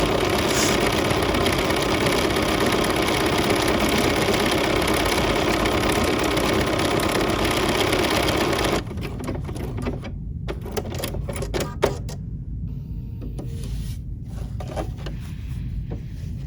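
A BERNINA sewing machine stitching out an embroidery design hums with rapid, steady mechanical chatter, loud and continuous, then shifts to a quieter, more broken clatter partway through.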